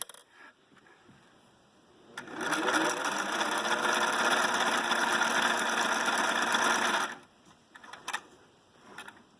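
A Singer 347 sewing machine stitching, a steady rapid mechanical whir lasting about five seconds that starts and stops abruptly, with faint clicks before and after.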